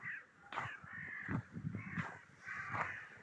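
Several crows caw repeatedly at a distance above a town plaza, harsh calls overlapping in uneven bursts against faint outdoor background noise.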